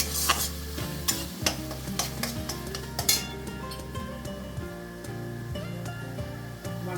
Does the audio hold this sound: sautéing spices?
yes